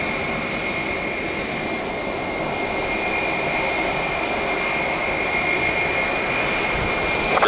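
A jet airliner roars steadily as it takes off at Detroit Metro Airport, a loud, continuous engine rumble with a high whine held throughout and no voices.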